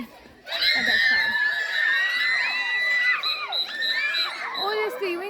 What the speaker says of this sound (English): they're screaming because there are monkeys coming.